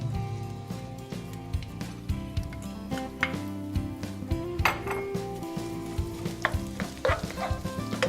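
Onions sautéing in olive oil in a hot wok for a stir fry, a continuous sizzle broken by frequent clinks and scrapes of a utensil against the pan, close up with no talking.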